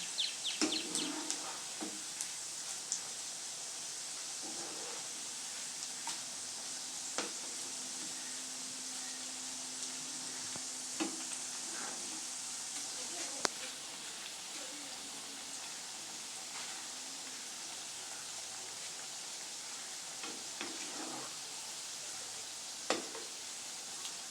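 Onion pakoda fries in oil on a low flame with a soft, even hiss of bubbling that runs throughout, broken by faint scattered ticks and pops.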